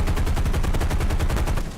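Wing-mounted machine guns on an F6F Hellcat fighter plane in a video game fire a fast, continuous rattling burst, loud and close, with no voices.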